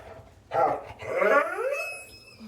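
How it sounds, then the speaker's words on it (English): An indoor dog gives a short bark followed by a longer whining, yelping vocalization, fairly close and alone against a quiet room. "We have a dog who wants to go outside."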